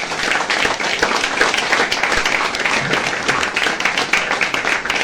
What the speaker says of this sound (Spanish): para quien pido un fuertísimo aplauso